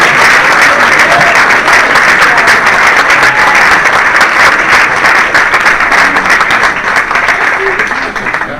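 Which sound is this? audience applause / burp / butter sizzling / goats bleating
audience applause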